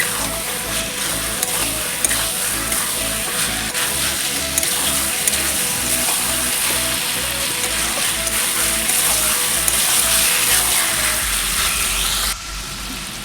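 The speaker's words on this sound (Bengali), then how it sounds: "আমি মিডিয়াম আঁচে আমি এটা কষিয়ে নেব" Chicken curry masala sautés over a medium flame in a steady, close sizzle, with faint stirring under it. The frying holds at an even level and briefly thins near the end.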